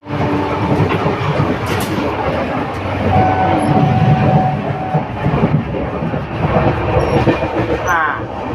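Steady rumble and rattle of a moving passenger train on the Surat–Mahuva line, heard from inside the coach, with continuous rolling wheel noise, a brief whine in the middle and faint clatter throughout.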